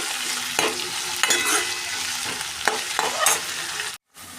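Tomato with garlic frying in a pan, a steady loud sizzle broken by repeated stirring scrapes, then a sudden brief cut to silence near the end.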